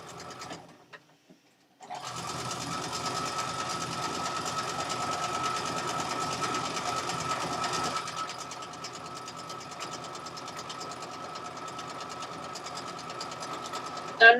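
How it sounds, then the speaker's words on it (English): A sewing machine stitches a straight seam at high speed, its motor and needle running as a fast, steady, continuous whir. The sound starts after a brief near-silent pause and holds close and even to the end. "normally I don't sew at this high of a speed, but since it's just a straight line, I'm going to go ahead and let the machine just speed it up here."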